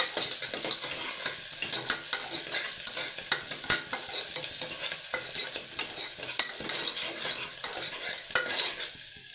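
Green chilies frying in oil in a pan at close range, a continuous hiss of sizzling broken by frequent quick clicks and scrapes of a spoon stirring.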